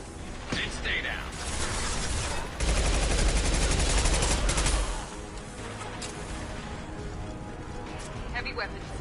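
Rapid bursts of automatic gunfire from heavy weapons in the video game Mass Effect 2, loud and sustained through the middle, with a voice speaking over the battle.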